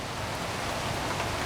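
Steady rain falling in northeast Texas in the afternoon, a continuous broadband hiss of drops on surfaces, even and moderately loud throughout, with no voices.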